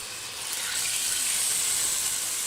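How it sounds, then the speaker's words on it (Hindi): Water from garlic-ginger paste hits a hot karahi pan and sizzles with a steady steamy hiss, rising quickly then holding loud and even. "इसमें हम डालने लगे हैं लहसुन अदरक का पेस्ट वाला पानी"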